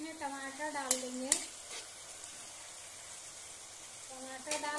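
Tomatoes drop into a frying spinach and potato curry, giving a steady broad sizzle throughout with clatters of stirring near the start and end, while a voice talks over the opening and closing moments.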